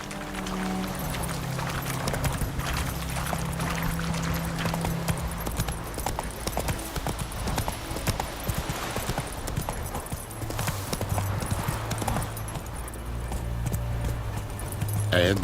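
Geralt's horse Roach ridden at pace in The Witcher 3: Wild Hunt, with rapid galloping hoofbeats up close over a low musical drone, continuing steadily throughout.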